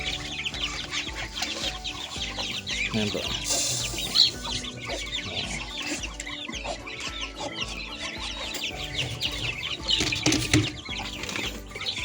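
Native chickens and chicks on a backyard farm cluck and chatter steadily, close by, with occasional bursts of wing flapping; a brief voice is heard once.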